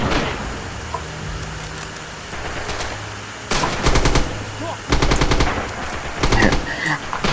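Bursts of machine gun fire in the Stalingrad battle game Red Orchestra 2, loud rapid rattling volleys in several long strings over a steady background of combat noise, with distant shots in between.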